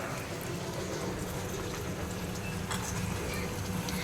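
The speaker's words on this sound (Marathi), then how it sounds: "इकडे तेलात छान अशी फ्राय होते बघा" Chillies and garlic frying in hot oil for a dal tadka, a loud, dense, continuous sizzle and crackle close up, with occasional sharper spits and no talking.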